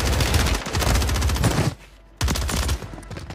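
An enemy's gun fires in Call of Duty on Rebirth Island: loud, rapid automatic bursts close by, a brief pause, then another sustained burst.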